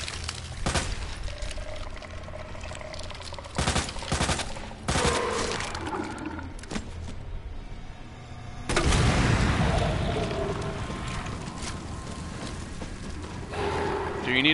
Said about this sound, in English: This is where my grenade launcher is going to come in.